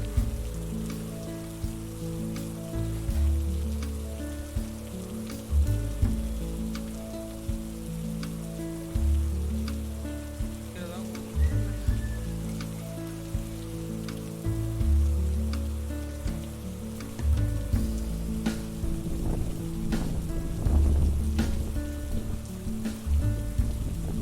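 Heavy rain pours steadily onto surfaces outside an empty shed, a dense continuous patter with close drips, while a low tonal hum runs underneath throughout.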